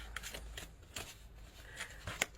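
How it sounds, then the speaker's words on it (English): A tarot card deck being shuffled and cut up close, with quiet papery riffles and soft flicks in quick, uneven bursts and a sharper snap near the end. "One more card, and then we will cut the deck."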